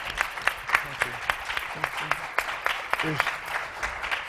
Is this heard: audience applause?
yes